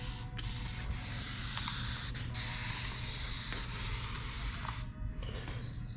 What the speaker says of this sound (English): it just sprays a little mist on there